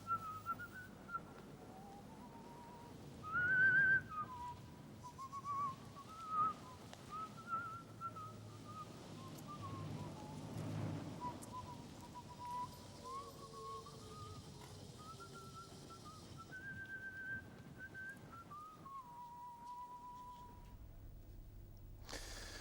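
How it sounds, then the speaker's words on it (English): A man whistles a wandering tune outdoors, a single clear whistled melody that carries on steadily and sounds faint and somewhat distant, with a few brief background knocks. "Whistling away there into the distance"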